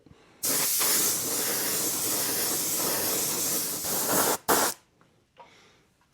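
Spray paint hisses onto a Kyosho Dune Master RC car body in one long, loud continuous burst. A few short spurts follow near the end.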